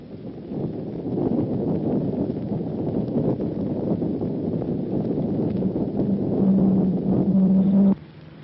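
An X-band radar's audio return from a moving Jeep: a continuous, close, grainy rumbling buzz with a faint tonal hum rising near the end before it stops abruptly.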